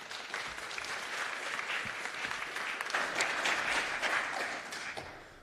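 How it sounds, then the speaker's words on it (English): Steady applause from a conference audience, a dense wash of many hands clapping at an even level throughout, easing off slightly at the very end. "Please give a good round of applause for Alex and Leo."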